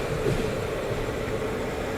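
An Amrit Bharat Express train running through Prayagraj Junction, heard as a steady broadband rumble and rush of rolling stock at an even level, with no distinct horn or voices.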